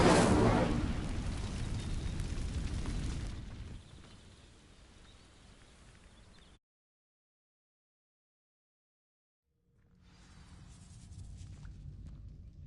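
Incendio fire spell cast in the Hogwarts Legacy video game, a loud whooshing burst of flame that roars for a few seconds, fades into a low rumble, cuts to silence, then a softer crackling rush returns.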